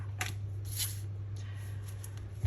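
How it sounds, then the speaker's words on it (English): Tarot cards being shuffled by hand, heard as a few short papery riffling bursts over a steady low background hum, close and moderately loud with no talking. "Let's shuffle the tarot cards first"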